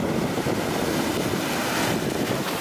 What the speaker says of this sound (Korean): 파도가 세긴 세네.